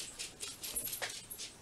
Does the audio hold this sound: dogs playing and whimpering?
yes